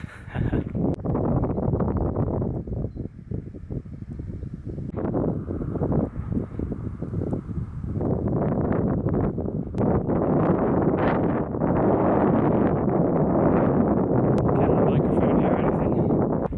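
Slight wind buffeting a microphone outdoors on Blackdown Hill, with soft gusts and rustling rising and falling, under near talk throughout.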